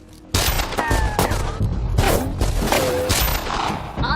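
Rapid gunfire crackles in a close-range shootout between characters, shots and bursts overlapping with thuds and booms over the full span, loud and dense throughout.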